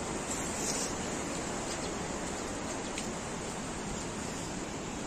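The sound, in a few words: Marsyangdi river flowing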